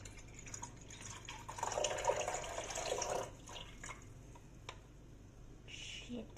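Water is poured from a glass into a cooking pot in a home kitchen, a short splashing fill that swells for about two seconds and then fades to faint drips, with quiet voices in the background.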